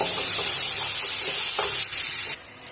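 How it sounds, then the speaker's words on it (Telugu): Masala frying in a pan for tomato rice, a dense hissing sizzle with soft stirring scrapes, close and fairly loud, easing off near the end. "ఇప్పుడు మనకు మసాలా మొత్తం మంచి ఫ్రై అయ్యే వరకు ఫ్రై చేసుకోవాలి."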